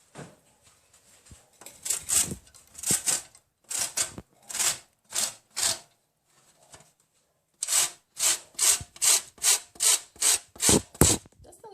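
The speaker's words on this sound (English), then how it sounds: "Now I'm going to use this lemon to get some of the zest from it to put in this." Zest is grated from a lemon for a mixed berry and pineapple pie: close rhythmic rasping strokes in short bursts, a pause, then a quicker run of even strokes, with no voices.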